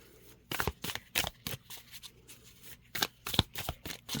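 A Hydesville Tarot deck is shuffled by hand, with a run of quick papery riffs and flutters in bursts separated by short pauses, close and fairly quiet.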